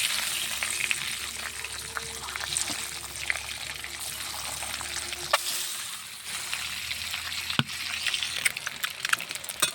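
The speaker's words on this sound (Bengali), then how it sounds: "কড়াইয়ে তেলটা একটু গরম হলে ডিমটা দিয়ে দিব" An egg fries in hot mustard oil in a wok with a touch of turmeric, giving a continuous crackling sizzle with light spatters and a couple of sharp pops, close and steady throughout.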